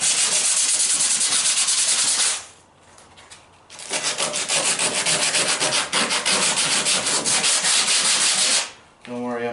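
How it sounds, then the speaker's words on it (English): Hand sanding on the passenger door of a 1974½ MG MGB, working the panel back toward factory etching: steady, loud abrasive rubbing strokes in two long bursts separated by a short quieter pause, with no talking. "sand everything"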